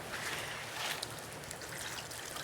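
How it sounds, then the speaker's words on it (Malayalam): Water trickles and splashes softly as it is poured into a pot of pork cooking for a Christmas feast, a faint, continuous pour with no talk over it. "അമ്മായി കുറച്ച് വെള്ളം ഒഴിക്കോ?"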